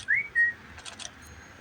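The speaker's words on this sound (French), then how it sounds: "Je vais encore siffler." A person whistles two short, rising notes, clear and fairly close, followed by a few fainter chirpy sounds in a quiet setting.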